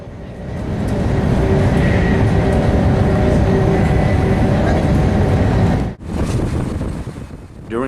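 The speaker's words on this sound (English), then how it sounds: "there is a super fast train which takes less than half an hour to complete this journey" A loud, steady rushing roar with a deep rumble from a high-speed train in China, with a brief dip near the end before the roar resumes.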